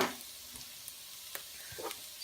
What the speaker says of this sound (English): It's going to really start to sear.